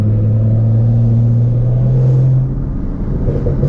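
A turbocharged car engine revs hard and close during a canyon drive, a loud steady drone that holds for about two seconds before the pitch drops and the roar eases off.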